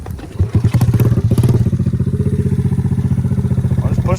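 A Honda ATC 90 three-wheeler engine catches after a push start, a loud close burst of revving that settles into a steady, fast chugging idle with a rhythmic pulsing putter.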